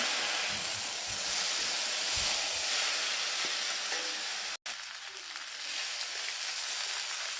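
Street-style chowmein noodles stir-fried in a pan with ketchup, vinegar and soy sauce, giving a steady, close sizzling hiss with soft stirring scrapes and a brief break partway through; no one talks.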